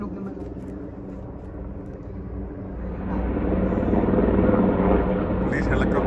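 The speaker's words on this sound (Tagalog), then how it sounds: "Police helicopter leading them." A police helicopter leads a flypast overhead, its rotor thrum swelling from a distant drone to a loud, close beating roar, while people talk over it.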